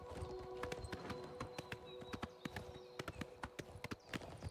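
Horse hooves clip-clop steadily on the ground in Oblivion Remastered, a fairly close, regular walking rhythm of distinct sharp hits with no talking over it.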